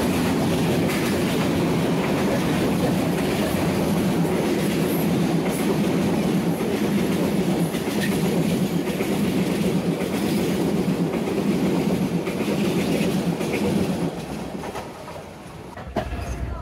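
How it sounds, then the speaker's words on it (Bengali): The Rangpur Express, a Bangladeshi intercity train, rolls past at a station crossing near Raninagar, its steady, loud rumble and clattering wheels filling the scene for most of the stretch before easing off near the end. "আমাদের ট্রেনের রংপুর এক্সপ্রেসের সাথে এখন ক্রসিং হবে।"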